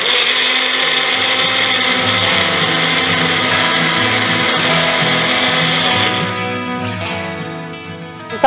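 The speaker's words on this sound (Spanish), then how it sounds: "Estos ingredientes los vamos a licuar en medio vaso de agua" A kitchen blender whirs loudly and steadily, liquefying juice ingredients in half a glass of water, then winds down with a falling whine near the end.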